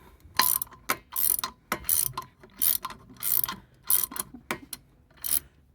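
A wheel lug nut is tightened on a Plymouth Breeze, Dodge Stratus or Chrysler Cirrus, with about a dozen close, crisp ratcheting bursts in an uneven steady rhythm.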